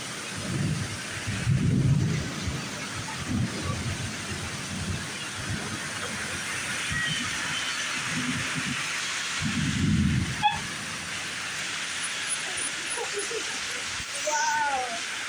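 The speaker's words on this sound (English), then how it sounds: "This is actually the worst storm I've ever been through." Severe thunderstorm with heavy rain hissing steadily on a roadway, punctuated by several deep thunder rumbles and booms at irregular intervals, with voices heard faintly.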